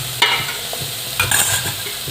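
Close stirring and scraping in a pan as oil goes into roasted green chickpeas, with a soft sizzle and a few sharper knocks of the spoon. The stirring is light and brief, and nobody speaks.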